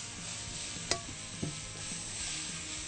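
Onions frying in a pan, a steady broad sizzle throughout with a couple of sharp utensil scrapes and knocks near the start, no talking.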